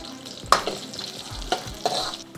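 Cashews, almonds, raisins and coconut pieces frying in a pan, making a steady soft sizzle with a few sharp stirring scrapes and clinks near the start, middle and end.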